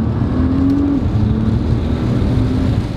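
A brand-new Nissan GT-R sports car accelerates, its engine note rising in pitch through a short run and then dropping with a gear change, loud and close for about three seconds with no talk.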